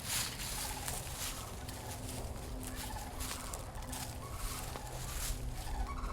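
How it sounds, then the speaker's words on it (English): Turkeys gobble repeatedly at a distance over a steady, noisy outdoor background. "Oh, some wild birds."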